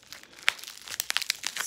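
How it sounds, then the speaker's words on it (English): Taped package wrapping is torn open in close, quiet bursts of crinkling and ripping, with sharp irregular crackles and no talking. "I'm so sorry about all the wrapping noise."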